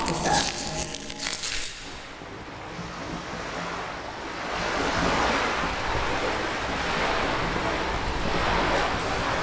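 Wind in the Disco Elysium game, gusting against a sail at sea: a broad whooshing rush that swells and holds, with surf-like wash underneath and a brief crisp flutter at the start.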